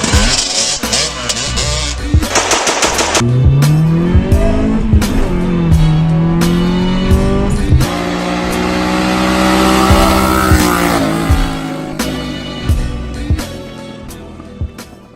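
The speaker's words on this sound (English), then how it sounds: "As you can tell by the motorcycles going down the road" Loud motorcycle engines roar past on a road, one after another, their pitch rising and falling as they go by, with revving and a steady traffic drone.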